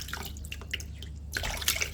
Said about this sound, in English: you have to wash your ginger really good